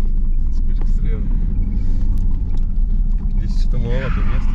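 A car passes close by on a street, its engine rumble and tire roar swelling under ongoing talk, with a second vehicle following.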